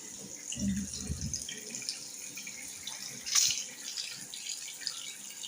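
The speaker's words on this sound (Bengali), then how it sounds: "কলটা বন্ধ করে দাও শুধু শুধু পানি পড়তেছে" Water runs steadily from a household tap, a continuous broadband hiss with a low thump near the start and a brief clatter midway, with no voices.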